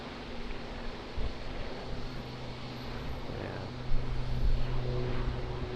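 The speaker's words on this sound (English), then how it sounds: "I'll show you guys just after this departure. ATR 72-600." An ATR 72-600 turboprop airliner departs from Auckland Airport, a broad, steady engine roar with a low propeller drone that swells slightly toward the end, heard from a distance.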